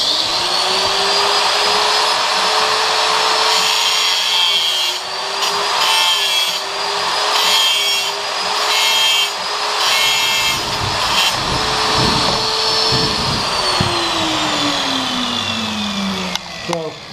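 An electric grinder shapes a small wooden piece for an Oldtown Jumbo guitar build in a workshop, a steady loud whine running throughout with rising and falling pitch as the part is pressed and turned.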